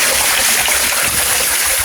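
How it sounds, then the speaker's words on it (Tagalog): Heavy rain falling outside a back window at night, a dense, steady hiss of water that is loud and continuous and fills the whole stretch with no breaks. "Kaso nga po, ang lakas naman po ng ulan."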